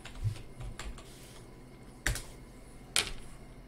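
Keys clatter in a short burst as a search is typed on a computer keyboard, a few soft taps followed by two sharper, louder strikes spaced about a second apart, close and with no talking.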